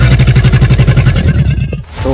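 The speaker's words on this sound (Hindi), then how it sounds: "ये एक भूखे क्रोकोडाइल की आवाज थी" A hungry crocodile growls in a deep, rumbling pulse by a jungle river, a steady rhythmic throb that repeats quickly for about a second and a half before dropping away into a brief low breath.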